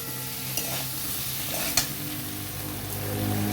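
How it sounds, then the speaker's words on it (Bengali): A spoon works through potato and pointed gourd curry in a pan over a steady frying sizzle, with a couple of sharp scrape clicks against the pan along the way. "এই দেখুন নাড়াচাড়া করে ভালো মতো মিশিয়ে নিচ্ছি"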